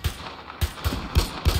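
Bursts of machine gun fire in a World War II war video game set in Tunisia, North Africa, 1942: several short, loud volleys spaced about half a second apart, with no talk over them.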